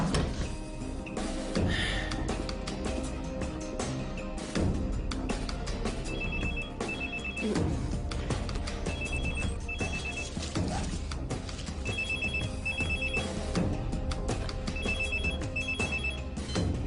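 A telephone rings repeatedly in short double bursts at an even rhythm over background music, moderately loud and close.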